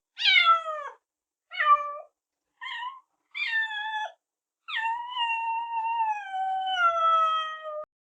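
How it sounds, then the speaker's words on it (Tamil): A mischievous kitten meows five times, close and clear: four short rising-falling calls with brief pauses, then one long drawn-out meow lasting about three seconds, alone in silence. "குறும்புக்கார பூனைக்குட்டி."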